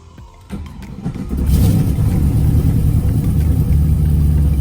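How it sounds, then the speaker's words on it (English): Tuned car engine cranking over and catching, then settling into a loud, steady idle rumble close by, without anyone talking. "I did not expect this car to start so easy with that mail order tune"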